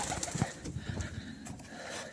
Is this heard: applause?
no